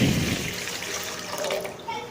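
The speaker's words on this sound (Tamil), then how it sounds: "இந்த 1/2 கிலோ ரைஸ்க்கு 1/2 லிட்டர் தண்ணி சேர்க்கிறேன்" Water pours steadily into a cooking pot of rice, a continuous close splashing rush that fades toward the end.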